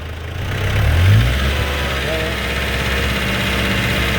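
A Mazda WL diesel engine with an injection pump and injector fault, low on power up to 2,000 RPM, rises in a brief rev then settles into a loud, steady rough running close by, with people talking over it.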